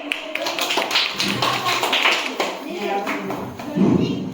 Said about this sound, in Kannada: ಹಾ ಚಪ್ಪಾಳೆ